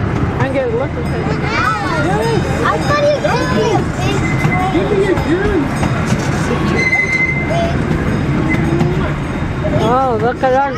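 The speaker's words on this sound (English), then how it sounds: "now we have our train coming in" A train on the Au Sable Valley Railroad rumbles close by with squealing wheels and rhythmic rail clatter throughout, while people talk excitedly over it.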